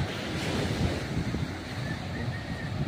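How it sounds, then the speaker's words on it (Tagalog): Waves wash ashore on a windy Philippine beach in a steady, broad roar, with wind buffeting the microphone and children playing somewhere in the distance; no one talks. "Ayan o, alon."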